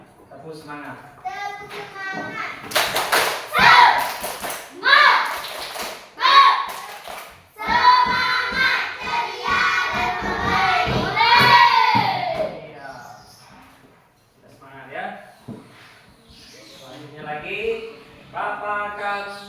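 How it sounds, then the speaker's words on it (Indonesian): Schoolchildren in a classroom doing tepuk semangat, the rhythmic spirit clap, with quick clap patterns mixed with chanting voices, then quieter speech afterward. "tepuk semangat"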